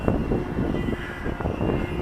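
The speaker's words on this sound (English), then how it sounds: "Authentic V8 Merlin that is" A model Spitfire aircraft's engine drones like a piston aircraft motor, humming continuously, moderately loud and close, with a slightly uneven, throbbing texture.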